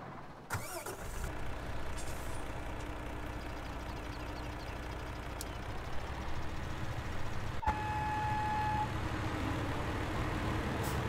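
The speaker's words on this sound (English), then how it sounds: "Let me get that truck going." A truck engine starts and settles into a steady rumbling idle in the farming video game Farming Simulator 2017, a continuous low drone with a brief click near the middle, with no talking.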